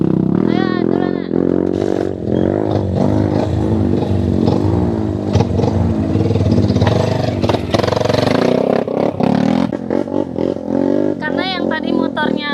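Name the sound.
motorcycle revving on a steep uphill trail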